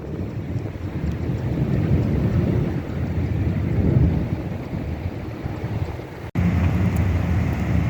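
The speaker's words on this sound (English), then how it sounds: "Some more thunder." Low thunder rumbles through blustery wind during Tropical Storm Alvin in the Arizona desert. It is a steady, broad roar with no voices.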